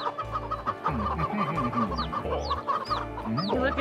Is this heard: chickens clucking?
yes